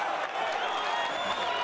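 A boxing crowd in Riga roars steadily and loudly for home fighter Mairis Briedis during a title fight, a dense, sustained wash of cheering.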